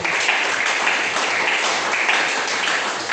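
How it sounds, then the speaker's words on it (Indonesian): A church congregation claps together in a short, loud burst of dense applause that stays even throughout, with no speech over it. "beri tepuk tangan bagi Tuhan"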